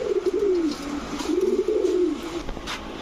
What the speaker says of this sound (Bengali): এখন দেখাবো হোয়াইট টাইগার গ্রিজেল রেসার, এটা হচ্ছে নর, এই হচ্ছে তার মাদি।